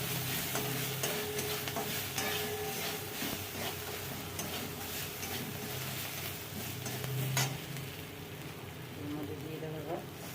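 Green chillies and chopped ginger sizzle and pop in hot oil in a pan with bay leaves, a continuous dense crackle with occasional stirring scrapes, close and fairly loud.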